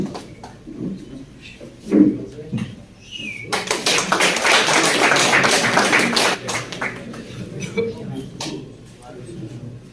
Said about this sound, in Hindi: इमरान साहब के लिए तालियां।